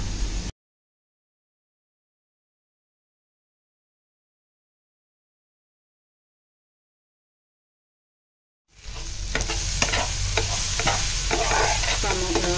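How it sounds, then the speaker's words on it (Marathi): Onions and tomatoes being sautéed in a pan: a brief burst of sizzling, then a long stretch of silence, before a steady, close frying sizzle with stirring returns for the last few seconds. "कांदा टोमॅटो छान आपला परतून झाला आणि शिजला पण आहे"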